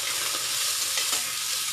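Onions sautéing in a hot pan while a chicken and pechay dish is being made, giving a loud, steady hiss of frying with faint stirring scrapes and no talk.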